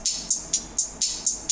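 A plain, dry hi-hat loop from a beat ticks in a steady, even pulse of about seven crisp hits, close and alone.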